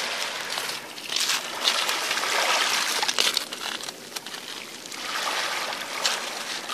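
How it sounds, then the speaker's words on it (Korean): Ocean waves at Byeolcheonpo Beach in Seosan, Korea, a steady broadband wash of surf that swells and recedes in slow surges over several seconds, with no voices. "파도 소리 한번 더 들어볼까요?"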